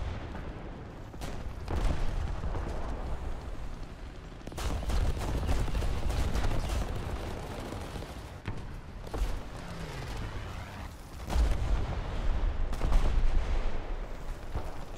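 Tank gunfire in a video game: heavy booming shots and rumbling blasts sit over a constant low engine-like drone, recurring at irregular intervals throughout.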